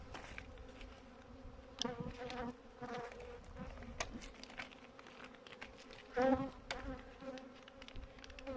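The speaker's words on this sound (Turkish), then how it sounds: "arılar bayağı bir saldırıyor bana" Honeybees buzz close around a beekeeper during winter feeding with sugar feed, with intermittent loud passes and hums near the microphone over a quieter background drone.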